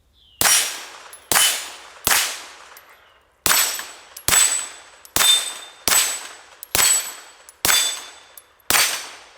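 A PSA Dagger pistol fed from a Zev extended Magpul magazine fires about ten loud, sharp shots at a steady, unhurried pace, each crack followed by a short ringing decay outdoors, with no talking.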